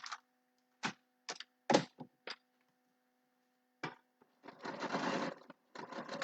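A sewing machine stitches a foundation paper pieced quilt that is not feeding through smoothly, in several short stop-start bursts and then one longer steady run, close and fairly quiet.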